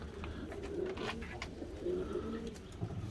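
Ornamental pigeons coo in repeated soft, low throaty phrases. They sound close and fairly steady over a murmur of background noise, with no talk.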